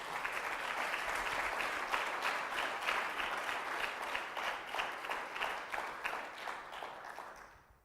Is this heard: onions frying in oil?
no